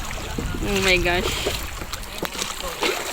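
Sea waves slap against a small boat at high tide in choppy water off Eastern Samar, a close splashing wash under excited voices.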